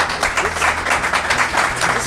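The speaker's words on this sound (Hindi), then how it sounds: "एक बार द पोएटिक स्टूडियो के लिए बहुत जोरदार ताली।" Audience applauding at a Hindi poetry studio gathering, dense continuous clapping close by that swells and pulses for a couple of seconds.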